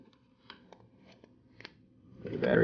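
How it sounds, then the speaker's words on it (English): Removing the battery from a T-Mobile G1 phone: several faint plastic clicks and taps close by, ending in a louder scraping rustle as the battery comes free. "Take the battery out."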